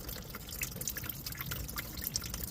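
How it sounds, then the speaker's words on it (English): Coolant drains from the spout of a Cummins truck radiator, a faint steady trickle with small drips, heard close in a quiet setting with no talking. "So if you look right there, you can see how it's draining out of that spout."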